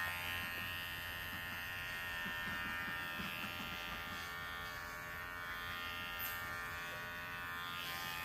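An electric pet clipper runs on its turbo setting while shearing a rabbit's wool, giving a steady, fairly quiet high-pitched buzz that hums evenly throughout.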